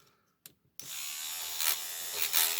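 Power multi-tool fitted with a bent wire whisk stirring paint, a steady loud buzzing whir that starts abruptly after a few faint knocks and runs on continuously, close up.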